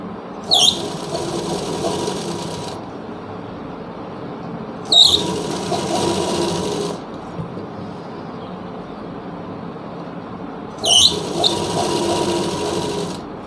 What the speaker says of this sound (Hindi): मैं आपको सिलाई लगा के दिखा देता हूँ यहाँ पे।